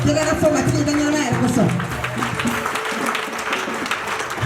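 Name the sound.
congregation applauding at Easter church service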